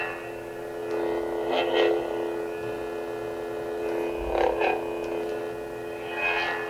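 A handbuilt Savi's Workshop toy lightsaber with a red Sith crystal and Darth Vader sound effects holds a steady electric hum, broken by three swooshing swing surges spaced a couple of seconds apart.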